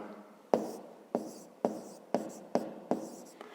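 A pen taps and scratches on paper in sharp, evenly spaced strokes, about seven distinct hits close up, with quiet pauses between them.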